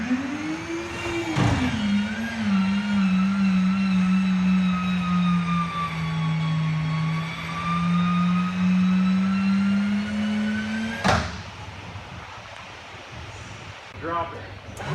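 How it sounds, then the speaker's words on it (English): A Cessna 414 retracts its landing gear during a ground gear swing at its annual inspection: a steady, loud mechanical whine and drone holds for about ten seconds, then cuts off with a clunk, followed by quieter rattling. "And so here comes the gear swing."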